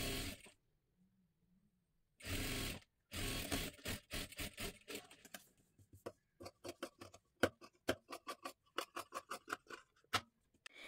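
Blouse seams being stitched on a sewing machine, with bursts of rapid mechanical clatter and then a series of short, uneven rattling runs separated by brief pauses, close and fairly quiet.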